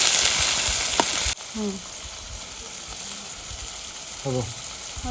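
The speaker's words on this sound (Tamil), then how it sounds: "வெங்காயம் நல்லா வதங்கட்டும். தக்காளி சேர்த்துருக்காங்க." Onions and tomato sauté in a pan for Odisha-style egg bonda, giving a loud, hissing sizzle that drops sharply after the first second and settles into a softer crackle under brief bits of voice.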